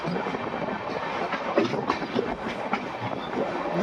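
A train on the Lingampalli–Vikarabad line rolls slowly off the main line onto the loop line toward a station platform, its wheels keeping up a steady clickety-clack rattle with occasional sharper knocks.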